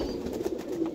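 Pigeon in a bird house cooing softly, a low rolling coo repeated over a second, quiet and near.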